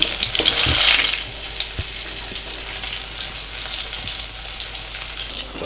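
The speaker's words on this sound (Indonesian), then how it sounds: "Kita bawang merahnya kita masak sebentar lagi ya" Shallots sizzle steadily in hot oil in a pan, with a loud, continuous frying hiss and occasional stirring clinks, no voices over it.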